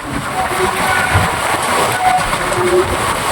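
Ganadevta Express train rolling along the rails, a steady loud rumble of wheels and carriage noise filling the clip without a break, with faint murmurs in the background.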